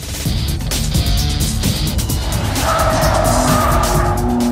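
A fast car laps the Interlagos race track, its engine loud and close throughout with continuous roaring revs and brief tire squeal.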